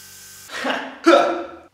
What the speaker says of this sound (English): we just put the white into the airbrush, we're just going around the edge